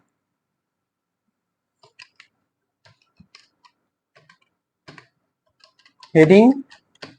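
Sparse clicks of keys on a computer keyboard tap out short bursts at an uneven pace, close and crisp, with a brief spoken word breaking in near the end.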